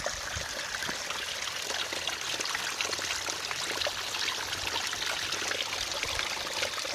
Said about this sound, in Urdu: پانی کی آواز سنیے اور یہ دیکھیے کیسے گر رہا ہے پانی